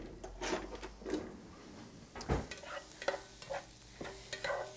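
Mushrooms cooking in a pan on low heat for beef, spinach and mushroom patties, a gentle sizzle broken by several utensil scrapes and taps, quiet and close, no talking.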